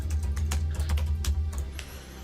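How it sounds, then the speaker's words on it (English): Rapid, irregular clicking of a computer keyboard during an online tabletop role-playing session, close and fairly steady over a low background hum, with no talking. "I'm typing."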